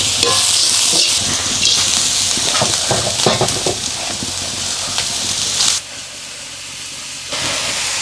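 Spinach tossed and stir-fried in a pan with onion and home-grown green chilies, a steady loud hiss and sizzle with scraping stirs, briefly dropping quieter near the end before rising again.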